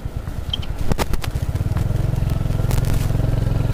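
A motorbike being ridden along a Konkan highway with a passenger and a bag tied on the back, its engine throbbing steadily and close by, with a few clattering knocks and scrapes near the start and no talking.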